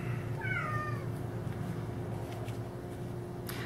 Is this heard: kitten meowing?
yes